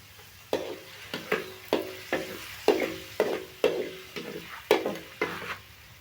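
Food frying in heated oil, with a spatula scraping and stirring in a regular rhythm of about ten strokes over a soft steady sizzle, close by and with no voices.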